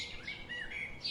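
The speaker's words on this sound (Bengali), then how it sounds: "Weaver bird." A weaver bird gives a quick run of high, sweeping chirps, faint and alone for about a second.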